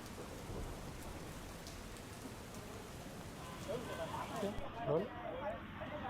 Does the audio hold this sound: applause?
no